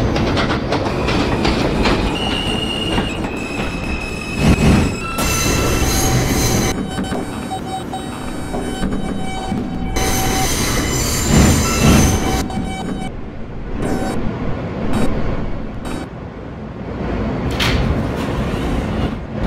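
A Queensbound M local subway train running in a Roblox game: loud rumbling wheels with clickety-clack, repeated high wheel squeals and sliding door sounds over about twenty seconds, with no talk.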